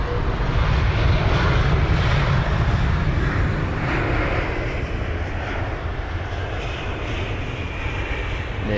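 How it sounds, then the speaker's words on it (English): A TAP Air Portugal jet taxis at London Heathrow, its engines a continuous loud low roar and whine that holds steady and eases slightly toward the end, with no speech. "There's that TAP Air Portugal aircraft once again."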